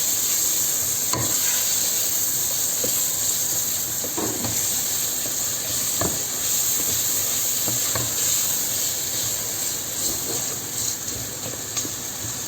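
Steady sizzling of minced meat frying in a pan for keema aloo, with scattered scraping and clinking as it is stirred, continuous throughout.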